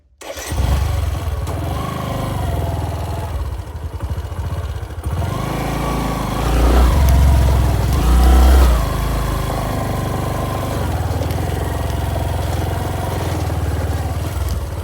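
An off-road motorcycle engine labors loud and close on a rough track in Sri Lankan rain, droning steadily with revving surges and strained pitch changes, without talk.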